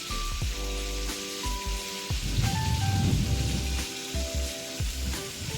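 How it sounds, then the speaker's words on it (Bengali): Hot oil sizzling and crackling as pointed gourd fries in a wok, a steady spatter that swells briefly, with faint clinks of a utensil in the pan. "কড়াইয়ের মধ্যে তেল গরম করে ভেজে তুলে নেব"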